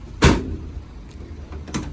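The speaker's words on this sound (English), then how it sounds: "The side door also works fine, guys." The side door of a 2018 Ford Transit Connect van slides with one loud thud near the start, then a quieter second knock of the door closing or latching, close by in a quiet setting.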